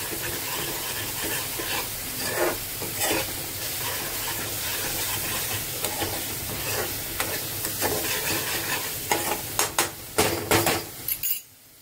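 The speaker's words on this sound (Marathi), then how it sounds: "हा मसाला मस्त तेल सुटेपर्यंत परतून घ्यायचा।" Masala for egg biryani fries in oil with a constant crackling sizzle and occasional spoon scrapes, building to a burst of louder metallic clanks and scraping against the pan near the end.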